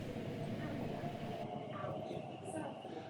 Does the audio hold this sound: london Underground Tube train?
yes